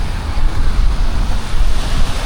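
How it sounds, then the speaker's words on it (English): Ocean surf rolling onto the beach at Playa del Carmen, a steady loud wash of breaking waves with wind buffeting the microphone, no voices. "we have all this beach right here to enjoy"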